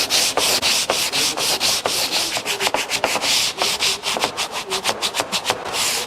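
A boat hull side is sanded to take off the last residue, giving loud, close, continuous rasping strokes in a rapid, uneven back-and-forth rhythm.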